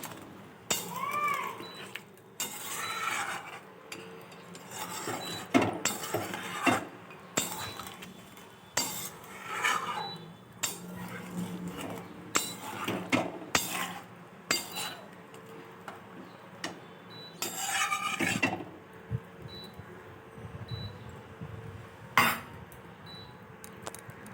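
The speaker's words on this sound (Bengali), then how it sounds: "মাংসটা ভালোভাবে নেড়ে নিয়ে এবার ঢাকা দিয়ে দেবো" Goat meat curry stirred in a metal pot with a spoon, giving repeated close scraping and clinking strokes in uneven bursts, with quiet gaps between them and no talking.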